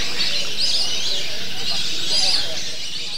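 Migratory guest birds chirp and twitter at Janeshwar pond in Lakshmipur, a steady bright chorus of overlapping calls with bursts of sharper tweets, heard at moderate distance under a constant wash of background sound.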